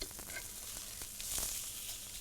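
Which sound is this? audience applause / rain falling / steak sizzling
steak sizzling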